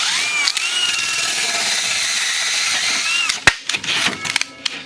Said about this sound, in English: we're getting ready to drill a few lights out in the closets